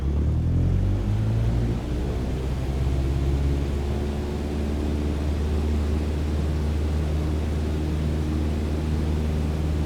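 A Cessna 152 in a flight simulator at full power for takeoff, a steady droning engine hum with a low rumbling propeller tone holding constant and close for the whole stretch.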